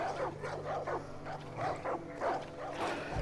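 Dogs in Far Cry 5 barking repeatedly in a steady run of loud, close yaps and woofs, with a low rumble of game ambience beneath and no talk.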